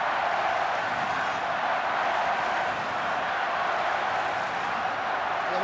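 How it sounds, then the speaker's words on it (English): Stadium crowd at a Warriors rugby league match against the Brisbane Broncos, a continuous broad roar with scattered applause, loud and sustained throughout. "Crowd roaring for the Warriors."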